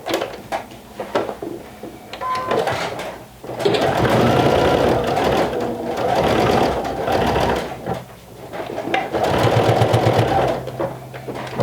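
A sewing machine runs in loud bursts of rapid stitching, pausing and restarting as it back stitches a seam on a vintage-style jumper, the motor whirring steadily between short stops.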